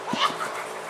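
A poodle gives a couple of quick, high yips and short barks up close, over a faint room background.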